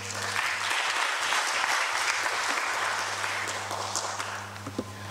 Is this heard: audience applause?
yes